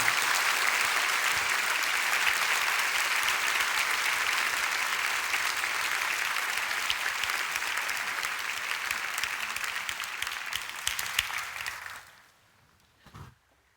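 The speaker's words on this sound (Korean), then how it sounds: "강사 목사님 나오실 때 힘찬 박수로 환영하며 맞이하겠습니다." A church congregation applauds to welcome a guest pastor, with dense, steady clapping from a large crowd that carries on for about twelve seconds before it quickly dies away.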